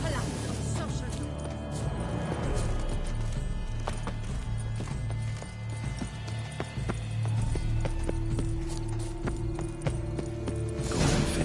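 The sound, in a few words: horse hooves galloping in The Witcher 3 video game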